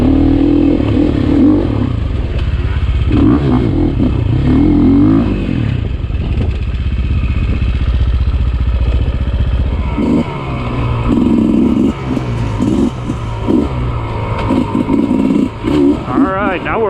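A Sherco 450 SEF four-stroke dirt bike engine runs steadily while being ridden at a demo day, with loud revving and clattering throughout and a rider talking over it.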